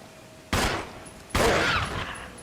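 Two loud rifle shots in the Resident Evil 1 remake at the Spencer Mansion, the first sharp crack followed about a second later by a second blast with a longer ringing tail.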